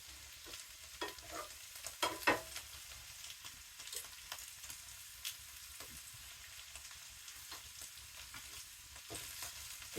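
Fried green beans topped with bacon are stirred in a pan, quiet steady sizzling broken by scattered sharp scrapes and clinks of the utensil, with no voices.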